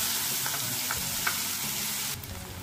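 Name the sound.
frying chopped onion in oil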